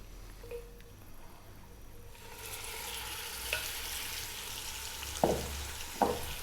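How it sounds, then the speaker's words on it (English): Seasoned beef browns in a pan on high heat, a low frying crackle that swells into a steady, brighter sizzle, with a couple of sharp scraping stirs near the end. "we're going to get our seasoned beef in there and we're going to brown it for about 5 or 6 minutes"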